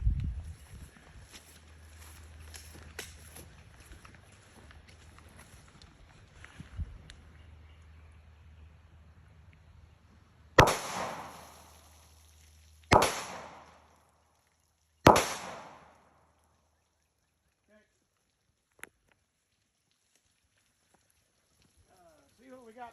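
Pistol rounds, 180 grain Golden Saber, fired outdoors at a truck door: three sharp, loud shots spaced a couple of seconds apart, each with a short ringing decay, after quiet low rumble and faint talk.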